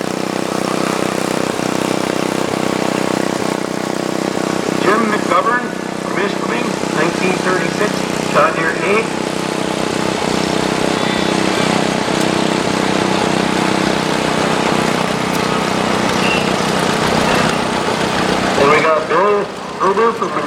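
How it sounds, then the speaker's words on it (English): A 1948 Farmall Cub tractor, just out of a barn after 27 years, towing a 1924 7-horsepower economy engine in a tractor parade, gives a steady loud engine drone under continuous announcer speech. "we have Don Frederick from Rexton, Michigan on a 1948 Farmall Cub."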